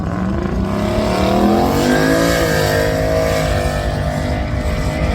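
A powerful Ford Mustang drag car revs and accelerates hard at a dragway, its pitch climbing and shifting as it roars continuously and loudly.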